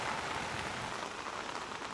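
Rain patters steadily on the metal top of a Hajka camp stove oven, a dense, even hiss of drops close by with no talking.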